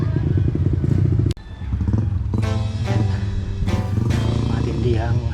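Dirt bikes riding uphill at Camp Sandugo, engines revving and roaring nearby with shifting pitch, accompanied by speech and a brief gap in the noise.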